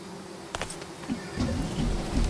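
Bees in Psychonauts 2 buzz as a low, busy drone that swells toward the end, mixed with light clicks and game ambience.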